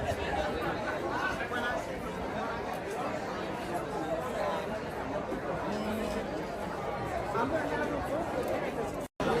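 A large political rally crowd chattering, a dense continuous babble of many voices filling the space at a steady level, with no single voice standing out.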